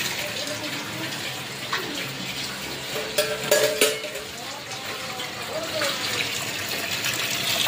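Tap water runs steadily into a sink beside freshly washed utensils, a continuous close splashing flow with a few clinks of dishes partway through, and no voices over it.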